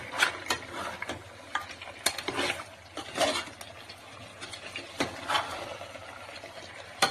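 Salt and turmeric being stirred into a cooking mix, with a spoon scraping and clicking against the vessel in an irregular series of sharp knocks and soft rustles, close and fairly quiet.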